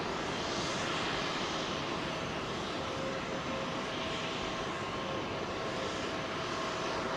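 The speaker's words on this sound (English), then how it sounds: "747 going through an engine test" A Boeing 747 runs through an engine test at London Heathrow, a distant continuous jet roar that stays steady and faint in the background with no voices.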